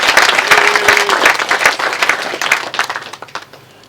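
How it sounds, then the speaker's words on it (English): Wedding guests applaud after Paul's speech at Mr and Mrs Howe's reception, a loud burst of dense clapping that slowly thins and fades toward the end. "I want to give Paul another round of applause."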